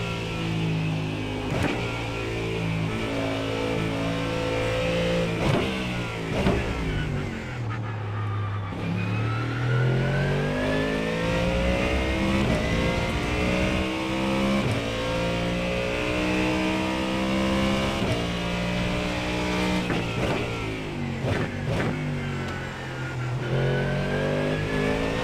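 Sim-racing GT3 car lapping Magny-Cours in iRacing: a loud, steady engine howl rising through the revs, broken by quick upshifts and downshifts with brief pitch dips, continuous throughout with no talking.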